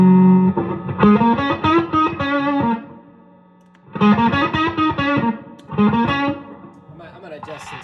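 An electric guitar runs through a Klon Centaur overdrive pedal, playing bright, mildly overdriven licks in up-close phrases with a short silent gap between them.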